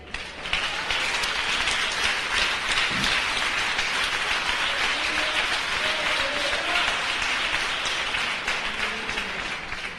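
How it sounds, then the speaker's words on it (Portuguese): A church congregation claps in sustained, dense applause for about ten seconds, a steady hiss of many hands, with faint voices beneath. "Aplausos ao Senhor"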